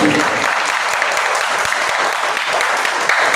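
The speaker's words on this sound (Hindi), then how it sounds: "जोरदार ताली बजा करके स्वागत करें" A crowd at a Suheldev Swabhiman Party event applauds heartily to welcome a party official, with sustained, loud, close clapping from many hands filling the room.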